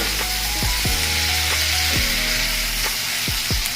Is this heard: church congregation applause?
no